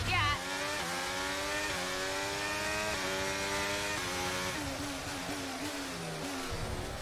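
Race car in a racing video game, its engine revving up through the gears in repeated rising whines, loud and continuous with a brief tire squeal, while someone talks over it.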